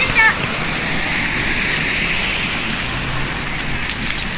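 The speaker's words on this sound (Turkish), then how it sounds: "burada yavaş yavaş şelalenin yanına doğru yaklaşıyoruz" Steady broadband rush of falling water, loud and continuous, like a nearby waterfall, with faint voices mixed in; a historic waterfall with a garden terrace in Germany.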